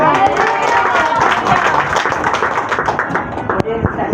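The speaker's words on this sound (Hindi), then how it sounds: "जोर से तालियां।" A church congregation at a Sunday meeting claps loudly, the patter of many hands mixed with a voice speaking over the crowd.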